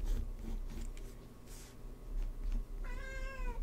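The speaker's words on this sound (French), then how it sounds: "je vous avais dit qu'il allait y avoir des chats qui allaient miauler" An indoor house cat gives a clear, drawn-out meow near the end, preceded by quiet room noise and faint pencil-like scratching, close and moderately soft.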